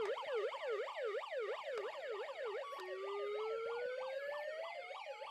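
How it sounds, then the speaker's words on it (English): A 1990s Hess toy truck's electronic siren wails in rapid, repeating up-and-down sweeps, then a second rising tone joins partway through. It is thin and close. "This is siren and flashers."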